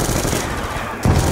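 Sustained automatic gunfire crackles in Call of Duty Black Ops 2 Zombies, a dense rattle of shots that pauses briefly and then resumes with a heavier burst.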